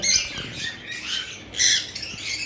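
Normal lovebirds, a pair kept for sale, giving harsh high squawks in several bursts close by, with a loud burst near the middle and no talk.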